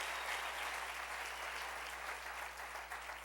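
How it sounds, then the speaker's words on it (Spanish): A church congregation applauds with steady, dense clapping that fills the whole stretch without pause, and no voices are heard over it. "Dale un aplauso al Rey."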